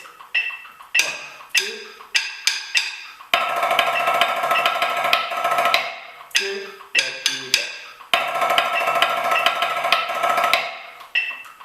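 Crisp snare strokes rattle off in quick paradiddle sticking patterns with accented hits, alternating with sustained drum rolls, played close and alone.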